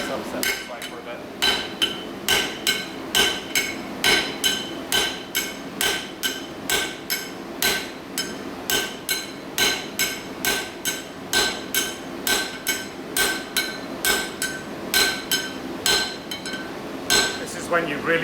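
A blacksmith's hammer strikes metal on an anvil while upsetting stock held at an angle, ringing in a steady, rapid rhythm of sharp close blows throughout.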